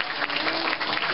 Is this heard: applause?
yes